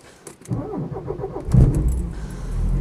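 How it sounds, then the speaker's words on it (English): A Porsche 944 cranks briefly and catches on a cold morning, the starter whir giving way to a loud flare of revs that settles into a steady, close idle. "I've just started up on a cold morning and it started perfectly well."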